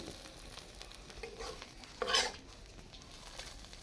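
Quiet stirring and frying of a vegetable paste seasoned with black cumin and dried chilli, a soft steady sizzle with one brief louder scrape of a utensil against the pan midway.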